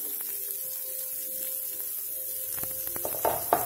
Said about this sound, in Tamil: இப்ப இதுல வந்து நம்ம வெங்காயத்தை போட்டுடலாம்.